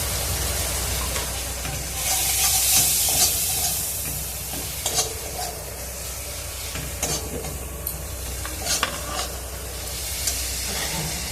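Chopped tomato and turmeric sizzling in salted oil while being stirred for a spiced split chickpea dal, with soft steady frying and intermittent scrapes and clinks, close and moderately loud.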